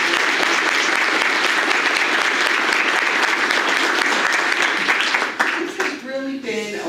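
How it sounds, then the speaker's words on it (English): Sustained audience applause at an annual community awards dinner, a dense steady wash of clapping that thins out near the end as voices start to come through. "So let's give Tony a big round of applause"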